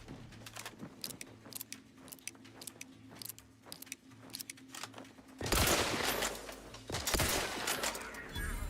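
Gunfire during combat in the video game The Outer Worlds 2, first a rapid series of clicking shots and then loud bursts of blasts that swell and fill the scene.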